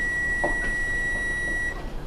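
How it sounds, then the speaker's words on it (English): A kitchen timer beeps while shampoo bars are being made, a steady high electronic tone ringing for about a second and a half over a soft background hiss before it cuts off, with no voices. "Oh, the beeper. Time's up."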